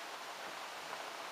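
Steady, dense rain falls outside on a wet day, a continuous soft hiss with no breaks, fairly faint and even throughout, with no talking over it.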